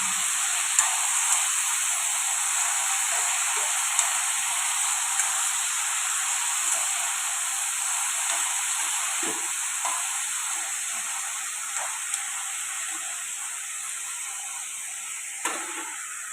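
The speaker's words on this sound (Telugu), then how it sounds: "ఇప్పుడు బాగా కలుపుకొని మూత పెట్టుకొని ఫ్రై చేస్తాం" Brinjal pieces fry in a covered pan for a Telugu vankaya pappu dish, giving a steady, even sizzle and hiss throughout, with a few faint clicks and no talking.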